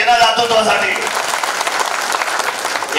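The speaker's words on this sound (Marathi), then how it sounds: "एकदा टाळ्या तर व्हायला पाहिजे ना दातृत्वासाठी" Applause breaks out from an audience at a Marathi political rally, a dense, loud wash of many hands clapping steadily for about three seconds with no speech over it.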